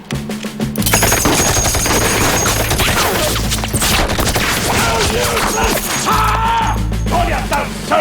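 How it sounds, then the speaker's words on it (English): Soldiers fire a sustained, loud volley of rifle shots, the crackle dense and continuous for several seconds, with shouting voices mixed in. "Commence! Firing!"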